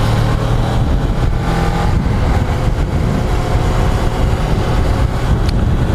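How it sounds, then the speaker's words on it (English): Road traffic passes a Suzuki GSX 250 R motorcycle on the move, a continuous rush of engine and wind noise with vehicles swelling by close and loud throughout. "A lot more traffic on the road now."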